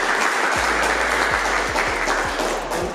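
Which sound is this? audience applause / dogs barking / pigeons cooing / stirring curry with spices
audience applause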